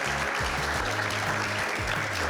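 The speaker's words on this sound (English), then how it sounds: "Can we get a big thank you of applause to our great panel for today?" A conference audience gives a panel a dense, steady round of clapping that holds at full strength throughout, close and continuous with no pauses.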